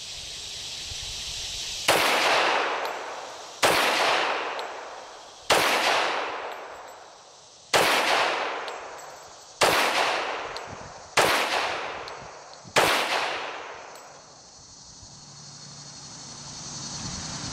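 Seven loud, sharp 1911 pistol shots fired at an outdoor shooting range, spaced roughly two seconds apart, each cracking hard and ringing out with a decaying echo.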